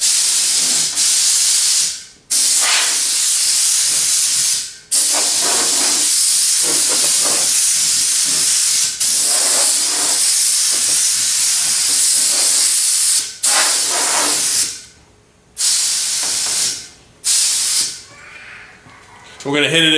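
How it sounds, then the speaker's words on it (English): Compressed air is blasted over arcade kit parts to clear dust, giving loud, close hissing bursts that run several seconds each, broken by short pauses and a few quick shorter spurts. "I'm going to hit it with some compressed air too."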